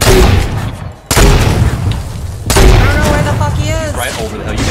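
Video game gunfire in Fortnite: loud, dense bursts of shots and booms crowd the whole span, with a brief lull near the one-second mark, over busy game sounds.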